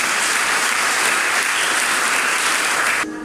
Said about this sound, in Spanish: Por favor, brindemos un aplauso a los nuevos esposos.